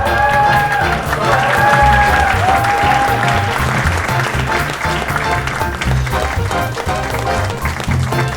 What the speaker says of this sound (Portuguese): Nós estamos recebendo e aplaudindo a Coronel Adriana Roledo Beluso